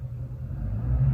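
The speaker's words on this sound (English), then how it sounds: "That's another car." A car passes on the street outside an old county jail as a low, steady rumble that swells slightly toward the end, muffled as if heard from indoors.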